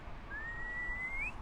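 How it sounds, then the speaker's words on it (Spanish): A person whistles one steady, sustained note that rises slightly at the end, clear and fairly near over a low background hum in an outdoor garden. "Yo con mi silbido."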